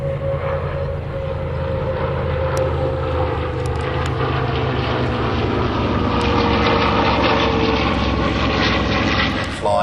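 A WWII Lockheed Hudson warbird flies at an Australian airshow, its steady loud piston-engine drone and propeller roar filling the clip, with crowd and commentary voices mixed underneath.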